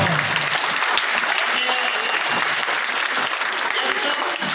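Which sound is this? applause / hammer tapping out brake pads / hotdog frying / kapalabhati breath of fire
applause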